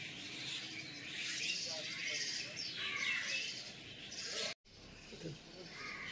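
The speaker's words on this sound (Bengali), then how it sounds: "একসাথে এত পাখি ডাকছিল, বেশ ভালো লাগছিল।" A chorus of many birds chirps outdoors in the morning, steady overlapping high calls with insect-like buzzing beneath, briefly cut off near the end before resuming more faintly.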